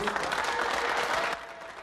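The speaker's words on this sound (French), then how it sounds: "Une bonne main d'applaudissements pour Gaétan qui a travaillé." Company employees applauding together in a burst of fairly faint, dense clapping that drops off abruptly near the end.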